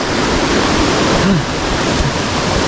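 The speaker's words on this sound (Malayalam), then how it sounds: "വാട്ടർഫാൾസ് പോലെയൊക്കെ വെള്ളം" Water of the Kottappuzha river rushes through forest near Pookkottumpadam, Nilambur, pouring like a waterfall: a steady, loud, broad roar that stays even throughout, with no voices.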